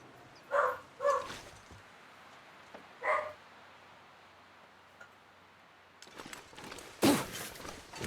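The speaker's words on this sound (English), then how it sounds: "Avoiding my dog barking" A dog in The Long Dark video game barks from off in the distance outside a burnt-out fishing hut, three short separate barks, faint against a quiet windy background, followed by a brief louder burst near the end.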